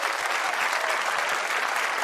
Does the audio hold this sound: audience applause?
yes